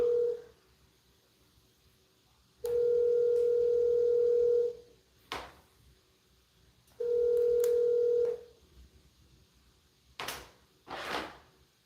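A phone in a real estate office gives two long steady dial tones, each followed by short clicks and keypad-like bursts, close and clear with no speech.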